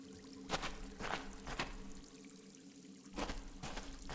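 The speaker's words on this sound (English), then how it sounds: "It's a natural well formed by the running water." Running water trickles and pours in a natural well in the Willy Morgan game, a faint steady stream with recurring splashy surges and drips.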